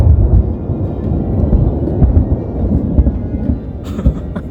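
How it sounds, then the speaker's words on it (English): Loud, rolling thunder rumbles low and continuous in the Utah hills, with faint rain and a brief crackle near the end. "I guess we'll wait for the thunder to go by."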